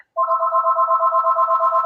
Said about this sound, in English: my phone's ringing. Telephone.